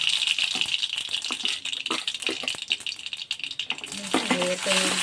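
Chopped onion and green chili frying in hot oil with mustard seeds in a home kitchen, a steady loud sizzle and crackle with the rattle of stirring, and someone briefly speaking near the end.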